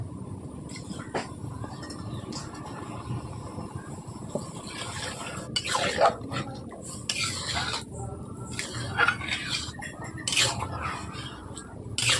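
Chana masala is stirred in a pot after water is added for boiling, with an ongoing low simmering rumble and irregular metallic scrapes and clinks of the spoon against the pot.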